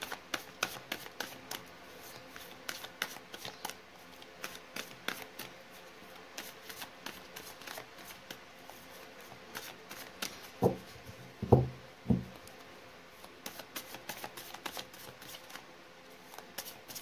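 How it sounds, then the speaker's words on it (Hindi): Tarot cards being shuffled by hand, a steady run of quick crisp riffling flicks close up and fairly quiet, with a couple of louder soft handling knocks near the end. "कर ली है कार्ड्स की शफलिंग"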